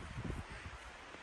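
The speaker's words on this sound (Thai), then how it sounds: "นี่ฝนตกทั้งลมทั้งฝน" Wind gusts buffet the microphone outdoors in rainy weather in Iceland, a steady low rumbling rush with a brief louder swell near the start, faint overall and with no clear talk.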